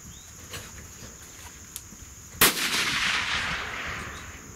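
A single sharp rifle shot from a .243 Remington 700 loaded with 80 grain Barnes TTSX bullets and H4350 powder cracks loudly mid-clip, then rolls into a long echoing tail outdoors.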